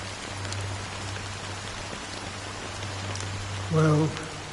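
Steady rain falling in the video game Honkai Star Rail, a soft continuous hiss throughout with a low hum underneath and a brief tonal sound near the end.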